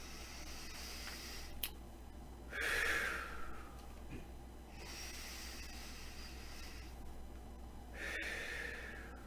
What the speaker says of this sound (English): I can take deep breaths without coughing.